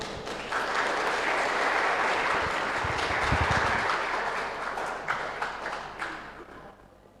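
A big round of audience applause welcoming the next contestant at an English public speaking contest, broad steady clapping that holds for several seconds and then thins out and fades.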